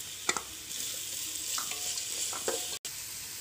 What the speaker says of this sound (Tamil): வெட்டி வச்ச பூண்டும் பச்சை மிளகாயும் ஃபஸ்ட்டு சேர்த்துக்கலாம் இது கொஞ்சம் நல்லா ஃப்ரை ஆகட்டும்